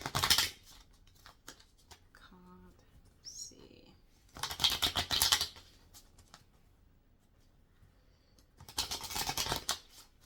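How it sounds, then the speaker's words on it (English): A deck of tarot cards is shuffled in three quick, crisp bursts of riffling paper, close by, with quiet pauses and faint small clicks between them. "Let's shuffle these."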